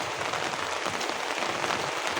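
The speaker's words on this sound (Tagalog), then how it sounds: "At maghapon ulan dito sa amin." Steady rain falling all day on a farm where young nokis are kept, a dense even hiss of drops on surfaces with no breaks, close and continuous with no voices.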